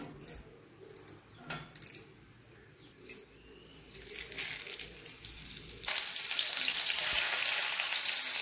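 Pea and potato curry sizzling and crackling in hot oil, with occasional clinks of a utensil, then a steady loud frying hiss for the last few seconds.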